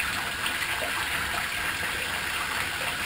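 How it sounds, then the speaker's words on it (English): Steady pouring of Gananoque Naught Otter wheat beer with a continuous bright, fizzy rush, close by and unbroken for the whole stretch. "Okay, let's pour it."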